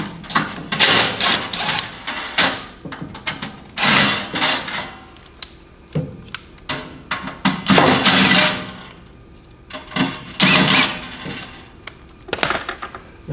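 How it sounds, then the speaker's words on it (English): Four panel screws come out of a Comfort-Bilt HP21 pellet stove under a Torx-25 driver, loud close clicks and rattling metallic handling in uneven bursts with short gaps. "so you have to remove all four. So we will use our"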